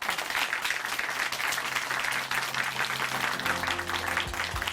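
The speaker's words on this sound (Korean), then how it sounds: "다시 한번 박수 보내드릴게요" Church congregation applause at Chuncheon Hanmaum Church after a testimony, continuous and fairly loud clapping throughout, with a sustained tonal music bed entering beneath it near the end.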